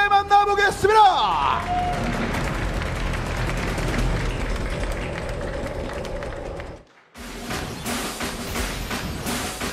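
A studio audience at a FIFA Online 3 championship esports match claps to welcome the players. A sharp shout or electronic stinger opens it, then moderate, steady applause follows, breaks off in a short silence and resumes.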